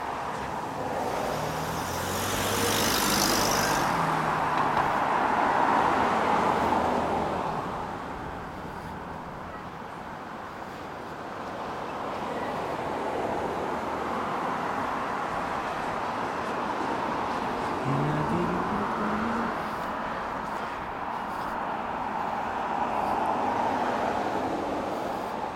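Traffic near a main road in Bellevue makes a continuous broadband wash, swelling as vehicles pass nearby and easing between them, with no voices.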